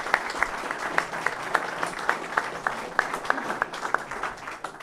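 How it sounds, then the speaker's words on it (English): A live audience in the Dungloe club house gives a round of applause during a debate event: steady, dense clapping from a roomful of people that lasts throughout, with individual sharp claps standing out. "we'll give a wee round of applause there."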